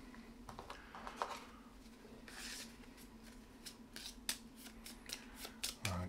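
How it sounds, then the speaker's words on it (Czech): Cards are shuffled for the Robinson Crusoe board game, a string of quick riffling and sliding bursts with short gaps, close and fairly quiet over a faint low hum. "Tak zamícháme 4 karty."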